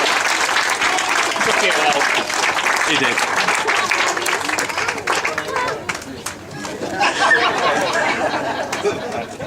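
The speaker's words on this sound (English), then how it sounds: "I think everyone will give you a round of applause" Wedding guests at a best man speech break into loud applause, with claps and cheering that mix with crowd chatter, while someone speaks briefly over the noise.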